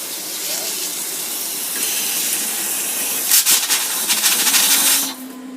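An RV shower faucet opened on cold during winterizing hisses steadily with a spray of air and water, growing sputtery and louder near the end before easing off.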